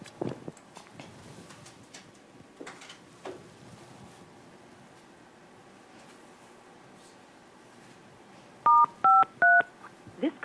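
Dialing tones play on a conference phone line in a quiet meeting room: three short, distinct beeps in quick succession near the end, following soft background murmur.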